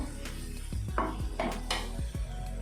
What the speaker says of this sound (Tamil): கடுகு வெடிக்கட்டும். கடுகு வெடிச்சிருச்சு.